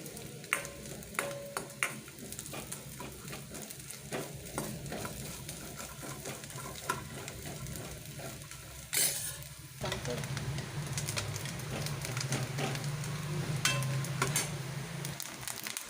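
Small chopped pieces frying in a pan on the stove while being stirred, a continuous sizzle with sharp crackles and scraping, the frying growing louder and denser in the second half.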